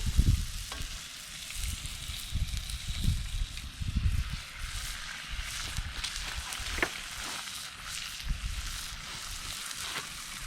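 Blue cornmeal pancakes fry in a skillet outdoors, giving a steady soft sizzle with occasional scrapes and knocks, no talk heard.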